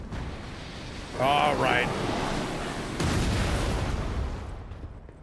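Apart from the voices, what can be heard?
cannon firing in video game Lies of P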